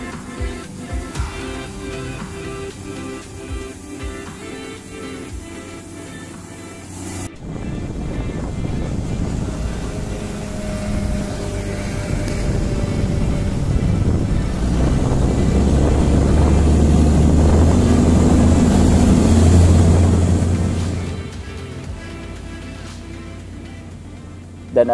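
A fishing boat's engine runs while the skipper steers with his foot. After a sharp cut the low drone builds steadily louder with rushing water and wind buffeting, then fades away near the end.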